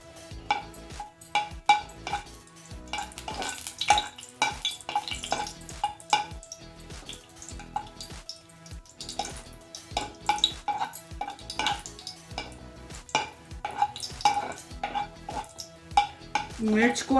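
Two red chillies frying in hot smoking oil in a pan while being stirred, with a soft sizzle under repeated scraping and clinking of a spoon against the metal pan, close and uneven in rhythm.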